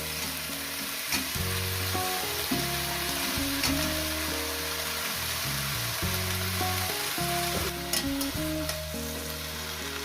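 Fenugreek greens sizzle and fry steadily in a hot pan for a home-cooked methi chorchori, with a continuous close crackle, some stirring, and no talking.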